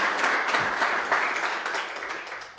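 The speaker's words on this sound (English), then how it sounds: "I would like to hear a resounding round of applause for yourselves." A resounding round of applause from the audience at a closing keynote of an Africa summit at the London School of Economics, dense and energetic clapping that holds strong and then tapers slightly.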